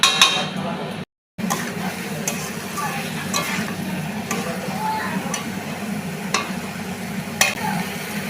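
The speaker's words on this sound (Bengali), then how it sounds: "মশলাটাও তাহলে ভালো করে এবার কষিয়ে নিচ্ছি" A spice masala is stirred and sautéed in a cooking pan, with a steady loud sizzle and occasional clinks and scrapes of a utensil against the pan.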